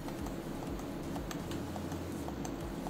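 Buttons pressed on a PS5 controller wired to a PC, a quick string of close plastic clicks and taps over a steady background hum, with no voices.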